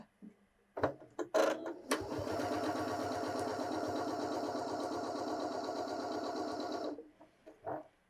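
A Janome 6700P sewing machine stitches a straight line at a steady, even whir for about five seconds, close and clear, with a few clicks and handling knocks before and after.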